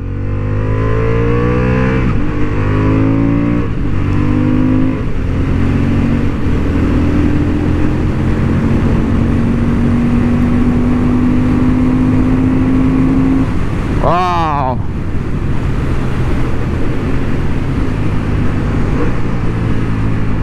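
A Honda Hornet 750 motorcycle on a racing track with a quick shifter, its engine droning loudly and climbing in pitch through quick upshifts, then a sharp rev swing midway, with wind roar and some talk.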